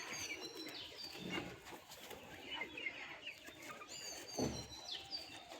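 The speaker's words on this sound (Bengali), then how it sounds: "ফুলশিরা টপ কোয়ালিটির গিরেবাজ পায়রা শখ করাচ্ছি।" Phulshira Girebaz high-flying pigeons at home: soft coos and clucking calls repeat at close range over a low background hum, with no clear speech.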